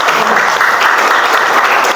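A classroom of students claps loudly and steadily for a student group after its presentation, a dense, continuous round of applause filling the room from start to finish.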